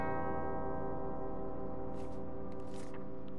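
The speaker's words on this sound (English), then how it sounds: "Two bells resound in perfect harmony." Two bells ring together in a place of worship in Uncharted: Drake's Fortune, their long sustained harmonic tones layering into a steady, loud chime that fills the whole stretch, with brief soft noises over it.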